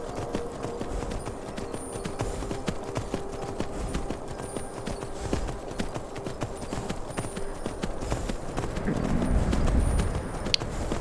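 Horse hooves clip-clop steadily on the ground in Skyrim, a continuous trotting rhythm under a dull ambient game background, growing slightly louder toward the end.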